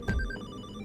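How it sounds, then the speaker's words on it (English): A brief phone ringtone sounds in the Hollowbody video game, a short electronic chime over a low thump and dull ambient rumble. "Phone. That's a good ringtone."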